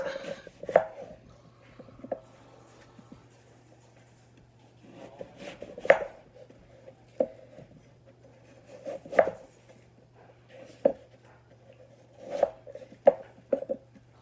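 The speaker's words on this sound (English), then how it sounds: "use a chef knife and cut it into 4 sections" A chef knife cuts a peeled apple into sections on a board. Sharp, separate chops land close by at an uneven pace, with quiet gaps between them and no talking.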